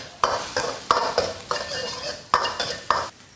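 Ginger, scallion, garlic and dried Sichuan pepper stir-fried in a wok with a little oil, a metal spatula scraping and clanking in quick irregular strokes over a soft sizzle, close and unaccompanied.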